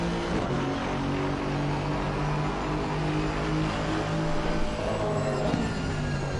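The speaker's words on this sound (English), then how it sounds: "The Aston sounds really nice. That's a beautiful sounding car." The engine of an Aston Martin GT4 race car in Assetto Corsa Competizione drones loudly and continuously with a steady, sustained tone throughout.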